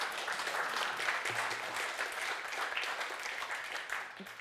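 A conference audience at a talk on semantic layers and AI claps in a steady, moderately faint round of applause that rises and eases slightly before tapering at the end.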